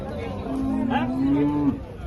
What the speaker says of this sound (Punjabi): ਬਹੁਤ ਹੀ ਟੌਪ ਕੁਆਲਿਟੀ ਦੀ ਮੋਰਾ ਨਸਲ ਦੀ ਮੱਝ